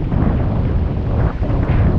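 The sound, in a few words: strong wind at the shore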